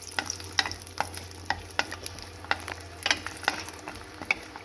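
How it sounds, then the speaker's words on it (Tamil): Garlic frying in sesame oil in a pan, with a low steady sizzle and repeated sharp clicks and scrapes from stirring, close and fairly quiet. "இந்த நல்லெண்ணெயில் பூண்டு போட்டு வறுத்துடணும்"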